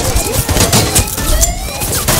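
Enemy gunfire in Battlefield: Bad Company 2 during a team match, loud dense bursts of shots crackling continuously with some clattering impacts, no talk over it.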